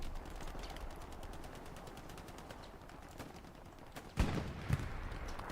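Machine gun fire in the World War II shooter Hell Let Loose at Elsenborn Ridge: a rapid, even rattle of distant rounds, joined near the end by a couple of louder nearby shots over a low battlefield rumble.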